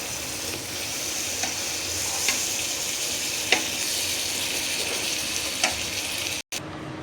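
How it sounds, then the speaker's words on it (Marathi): Cheese paratha roasting with butter on a hot tawa, a steady crackling sizzle with occasional sharp pops and a brief clack as it is flipped near the end. "छान उलट पलट करून आपण खरपूस असा शेकून घेऊया बटर लावून पराठा."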